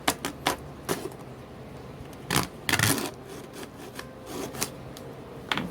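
A small, cheap Dollar Tree hand saw rasps in short, uneven strokes, quiet and close, with scattered sharper scrapes and a brief louder burst of cutting midway.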